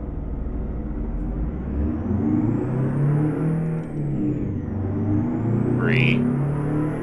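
International 9800 CabOver truck engine from American Truck Simulator revving up and dropping back as gears change, a steady loud diesel drone that rises and falls, with a brief hiss of air near the end.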